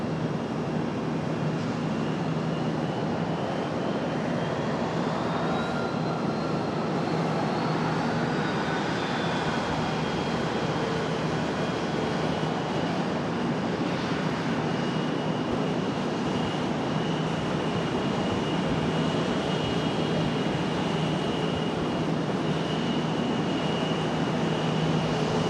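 An airliner on the move at Charlotte airport, a steady distant jet engine rumble and whine that holds evenly throughout with no voices.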